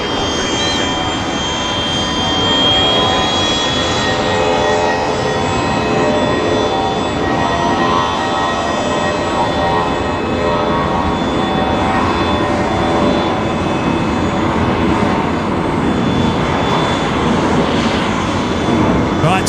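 A Jetstar jet rolls down the runway for takeoff at Brisbane Airport, bound for Avalon. Its engines make a loud, steady roar that lasts throughout, with people talking over it.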